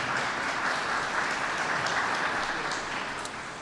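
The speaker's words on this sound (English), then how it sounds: "Please give him a round of applause." Steady applause from an audience at a heat wave commemoration event, honoring the Chicago Park District superintendent, dense and continuous for several seconds before easing slightly at the end.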